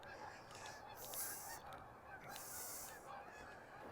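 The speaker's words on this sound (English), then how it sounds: "More geese. Another big skein of them there." A big skein of geese passes overhead on a November evening in Regina's Cathedral neighbourhood, their honks coming in two waves over a steady outdoor hum, moderately distant.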